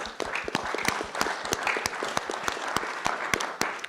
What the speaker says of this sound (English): A round of applause for Paul.